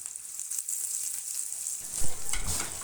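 Steady crackling sizzle of onion, garlic and round red chillies frying in hot oil, with a brief thump and a louder burst of sizzling near the end.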